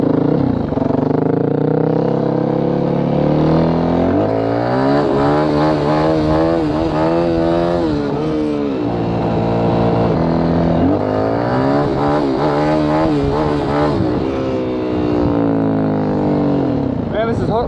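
A Yamaha WR450F dirt bike revs loud and close in long rising and falling pulls during wheelie practice, the engine climbing through gears and easing off, with a voice talking over it.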